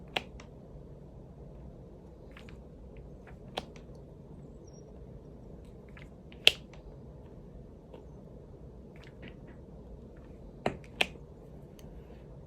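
Diamond painting drills click into place on a canvas, sharp, sparse little snaps spaced irregularly over a low, quiet background, close and crisp, with no talking.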